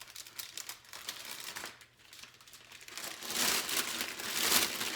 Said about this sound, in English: we have extra bags, plastic bags that we can throw trash in